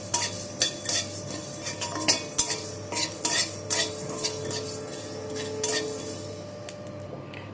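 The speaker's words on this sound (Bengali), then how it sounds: "এটাকে আমি একটু ভেজে নেব," Whole garam masala spices, cardamom, cinnamon, cloves and cumin seeds, stirred in a pan: rhythmic scraping and clinking of a spatula against metal over a faint dry sizzle, close and steady.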